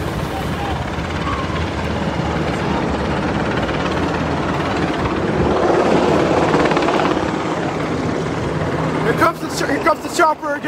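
A helicopter flies over a protest in Washington DC, a loud continuous rotor drone with a swelling pass midway, while people talk and shout nearby.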